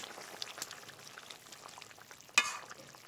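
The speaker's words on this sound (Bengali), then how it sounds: "আবারও একটু নেড়ে চেড়ে দেখে নেব" Fish head curry with bori, a quiet bubbling simmer in an open pot, with soft stirring and one sharper scrape of the spoon against the pot near the end.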